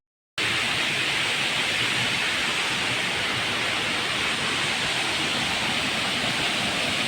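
Bada Ghagara waterfall in Keonjhar, water falling in a constant, full roar that starts abruptly and holds steady and loud, with no voices over it.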